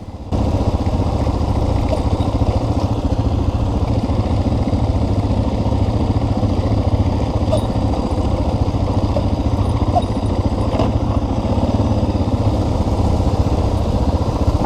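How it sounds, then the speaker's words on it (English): Motorcycle engine running steadily and loud for the whole stretch as a bike squirms back and forth through sand on a rocky off-road loop, a continuous mid-pitched drone with slight rises and dips in revs. "he's watching my bike squirm back and forth in the sand"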